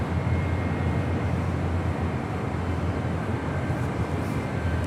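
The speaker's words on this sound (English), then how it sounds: "Spirit Airlines Flight 868 heading to Dallas, Fort Worth, Texas on an A320 with the older livery." A Spirit Airlines Airbus A320 departing Los Angeles International Airport, heard as a loud, steady jet engine roar that holds its level throughout with no talk.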